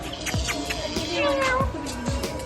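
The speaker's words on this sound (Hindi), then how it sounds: "पालतू बिल्ली है हमारी।" A pet cat meows several times in a row, close by, with short, bright calls over a steady room background where a person's voice is also faintly present.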